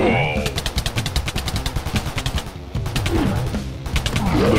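Rapid bursts of gunfire from guns in a Minecraft mutant zombie, enderman and creeper mob mod, loud rattling volleys over game noise.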